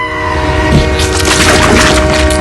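Train noise from the Final Fight arcade game, a loud, dense rumble with a sustained horn-like tone running throughout, alone without speech.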